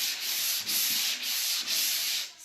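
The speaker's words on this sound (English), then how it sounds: "I'm going to take my sanding sponge." A sanding sponge rubs back and forth over an unsanded painted dresser surface, giving a steady, close, dry scratching sound in several long strokes with short breaks between them.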